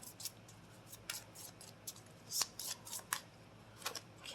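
Tarot-style timing cards shuffled and handled for a reading, with repeated soft papery slaps and riffles coming in short bursts, fairly close and quiet, with no talking.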